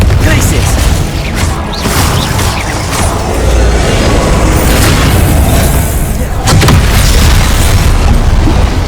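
Confringo blast spells exploding in a Hogwarts wizarding video game, a series of loud booming blasts with crashes and pops amid continuous game noise, one heavy burst standing out late.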